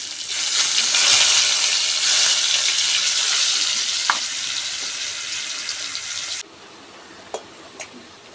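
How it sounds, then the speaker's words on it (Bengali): Potatoes fry in a pan over a briskly burning fire, a loud, dense, steady sizzle that cuts off abruptly near the end, leaving a quieter background with a few small clicks and taps. "আলুটা ভাজা হয়ে গেল"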